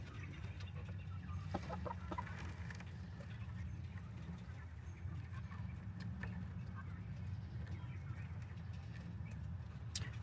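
Low, steady clucking from an injured hen in a quiet outdoor setting, with a few faint scattered knocks and rustles throughout.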